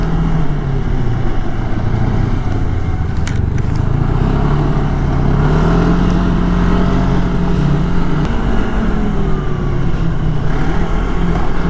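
A Can-Am Spyder three-wheeler converted to run on snow roars at full throttle, its engine droning loud and close with low rumble and shifting pitch as it accelerates hard.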